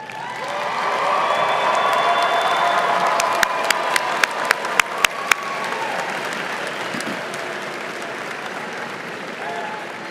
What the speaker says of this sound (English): I'd like to ask our graduates to stand and give a round of applause to those who have supported you